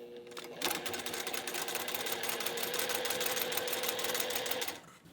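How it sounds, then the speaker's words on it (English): A sewing machine stitches a quilt block corner to corner in one steady, close, rapid run of needle strokes, starting abruptly and stopping before the end, with no talk over it. "Now I can sew corner to corner on this side."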